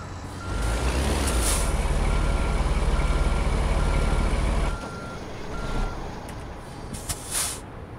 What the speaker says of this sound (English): try and go backwards